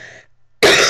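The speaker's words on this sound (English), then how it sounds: "I'm still coughing." A person coughs once, a sharp loud burst close up following a brief quieter breathy sound.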